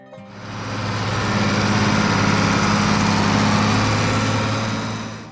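An International Harvester 1066 tractor engine runs steadily, a loud close droning rumble with a low hum that swells in over the first moment and holds, then eases slightly at the end, with no voices.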